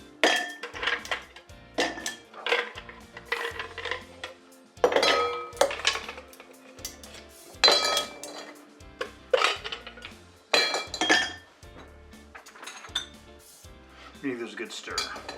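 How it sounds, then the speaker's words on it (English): Ice rattles and clinks inside cocktail shakers and mixing glasses while a Toronto cocktail is made, in a run of uneven metallic and glassy bursts close by. "we just got to get some ice in our shaker and shake these things up"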